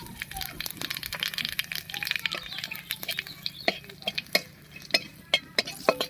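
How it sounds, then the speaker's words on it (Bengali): Nigella seeds and a dried red chili crackle and sizzle in hot oil as a spoon stirs and taps against the pan in a series of sharp clicks. "তেলের উপরে দিয়ে দিচ্ছি হাফ চামচ মতো কালো জিরা আর একটা শুকনো লঙ্কা"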